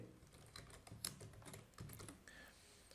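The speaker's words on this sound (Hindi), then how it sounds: "उसके बाद मैं यहाँ पे अपना नाम टाइप कर दूंगा।" Someone types a name on a computer keyboard, a steady run of close, crisp key clicks with a few slightly louder taps, heard alone.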